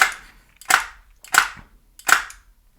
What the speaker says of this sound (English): So if I go on single shot and pull the trigger,